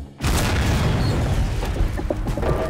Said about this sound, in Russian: Получай снарядик.